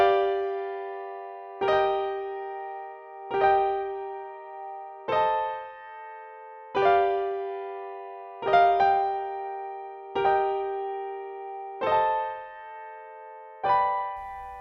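Piano plays the outro of the live version of a song as repeated sustained chords, struck roughly every 1.7 seconds in a steady rhythm, close and clear with no talking.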